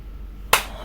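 A single sharp hand clap, close and crisp, standing alone after a moment of quiet room tone.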